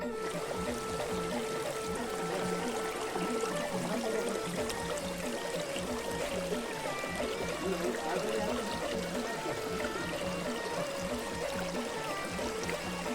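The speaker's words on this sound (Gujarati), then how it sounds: "ખડખડ વહેતું ઝરણું હજી પણ છે." A forest stream babbles over rocks in the Girnar jungle, a continuous close gurgling and trickling water sound at low level with no speech.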